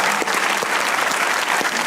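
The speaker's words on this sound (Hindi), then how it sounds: "इनके लिए तालियां बजानी चाहिए एक बार।" A studio audience on a comedy talk show breaks into steady, dense applause, a continuous wash of many hands clapping close by that holds level throughout.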